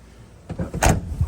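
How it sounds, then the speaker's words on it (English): The door of a 1985 Chevrolet K20 truck swings and shuts with a solid thud, a few soft mechanical clunks around it, close by. "the door shut great"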